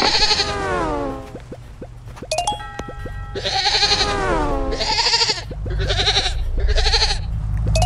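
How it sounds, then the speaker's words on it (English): A goat in the Crossy Road mobile game bleats several times: one long, wavering bleat, then a run of shorter, punchy bleats. Brief electronic tones sound in between, with no talking. "The stupid goat, shut the frick up."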